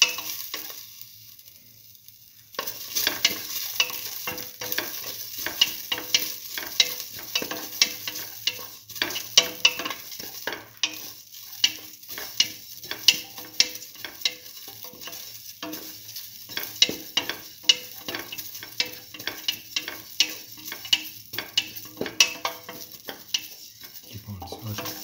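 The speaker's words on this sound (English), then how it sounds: "Keep on sauteing." Split mung beans and vermicelli sautéing in a pan, a steady close sizzle with frequent clicking scrapes of a stirring utensil throughout, starting after a brief quiet moment.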